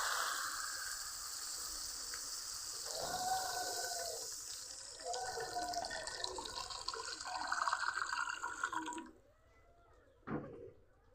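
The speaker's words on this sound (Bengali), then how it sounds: "এখন জল দিয়ে দিব।" Water poured into a pan of grass carp fish curry cooked with spices, a continuous splashing fill lasting several seconds before cutting off, followed by a faint clink.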